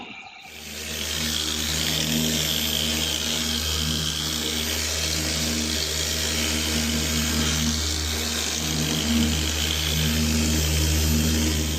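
A machine polisher hums and whirs steadily on car paint being treated with Cerakote Professional Ceramic, a continuous close, even drone lasting throughout with no talking.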